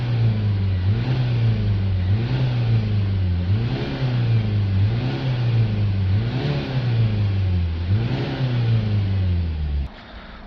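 A Nissan Qashqai diesel engine, checked for a particle filter fault, idles loudly and close with a steady low throb that swells and dips in slow regular pulses before cutting off near the end.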